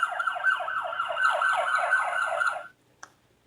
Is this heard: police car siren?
yes